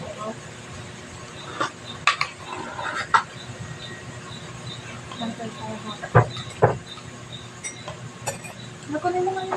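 Plates and dishes clink and clatter sporadically while a shrimp and cabbage dinner is served, with sharp knocks standing out over a steady background murmur.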